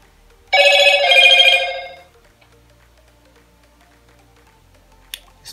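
A phone notification chime rings out once on a Motorola Moto G20, a bright ringing tone lasting about a second and a half over a quiet background, followed by a couple of faint clicks.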